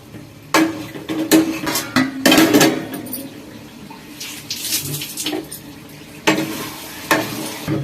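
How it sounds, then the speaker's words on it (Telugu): A spoon stirs curry with chili powder and coriander in a pan, producing several bursts of scraping and clattering against the metal over a low sizzle, with quieter pauses between strokes. "కారం అండ్ కొత్తిమీర వేసి తిప్పుకున్నాం అన్నమాట కాసేపు మగ్గించుకుందాం"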